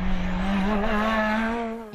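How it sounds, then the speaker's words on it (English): A race car engine singing at high revs as it comes up toward McIntyre's on a circuit, a loud sustained tone rising slightly in pitch as it passes, no talk over it. "You can hear that car singing away as he comes up in towards McIntyre's"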